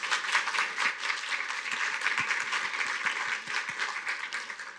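Audience applause for the panelists at the SF Food Action Summit, a steady wash of clapping from a seated lunch crowd, moderately loud and continuous throughout with a few sharper individual claps.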